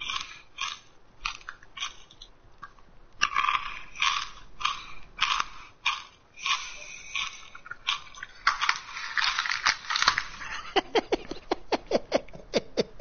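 Close, wet chewing and crunching of food by a person, rapid irregular bites repeating throughout, with no talk over it.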